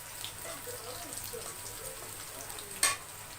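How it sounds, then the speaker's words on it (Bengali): Coarsely chopped onions sizzle in hot oil in a pan for a Bengali fish-head and lentil dish, a quiet steady crackle with a brief sharp spatter near the end, close up, without talk. "এর মধ্যে দিয়ে দিচ্ছি ওয়ান থার্ড কাপ পেঁয়াজ কুচি"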